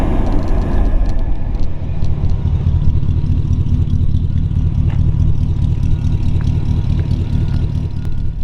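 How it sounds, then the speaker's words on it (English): Air blows from the air conditioning vent of a 1957 DeSoto Fire-Flite with a Hemi V8, a steady, loud, low whooshing rush that holds evenly close by, with no talking. "hear the AC vent blowing out there"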